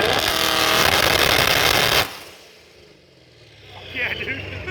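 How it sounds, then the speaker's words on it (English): Fathouse Performance 2022 Shelby GT500 Code Red held on launch control, a loud, dense engine roar for about two seconds that cuts off sharply, leaving quieter rumble and a faint rise near the end. "we're going to put it on what's called launch control. And that's going to be pretty loud."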